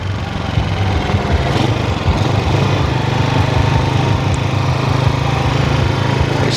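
A Honda CG 99 motorcycle engine runs steadily after a valve adjustment, a constant close buzzing idle with no breaks.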